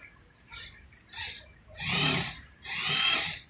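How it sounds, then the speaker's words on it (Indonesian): A power drill whirs in short bursts inside a bus under repair, two brief runs then two longer, louder ones, close by with pauses between. "lagi bor."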